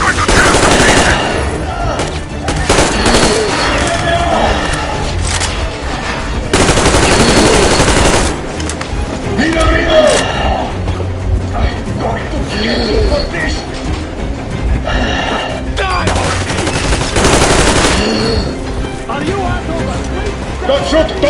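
Gunfire in the post-apocalyptic shooter Metro Exodus, bursts of rapid shots recurring through a dense, loud battle mix with shouting voices and a train-like rumble underneath.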